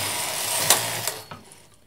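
Machine-knitting carriage pushed one row to the left, a close, loud mechanical whir with ratcheting clicks that fades out near the end of the stroke.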